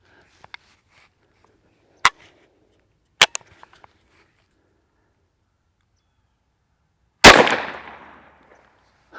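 A single shot fired from a single-shot gun through drywall rings out as one loud, sharp crack with a brief decaying tail, following a few quieter clicks and handling knocks earlier.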